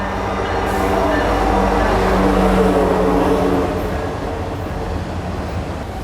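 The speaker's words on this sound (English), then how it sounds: "I think this might be a freight train." A freight train rolls past on a Rocky Mountain railroad, a loud broad rumble and clatter that swells to a peak midway and then eases off. No speech is heard.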